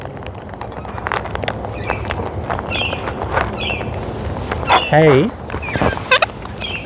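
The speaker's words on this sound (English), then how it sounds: "You talky squawky Birbs." Wild cockatoos call nearby with scattered chatter, then one loud, harsh squawk about two-thirds through, followed by more short calls; a person speaks briefly.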